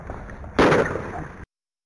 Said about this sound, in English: you can hear a single gunshot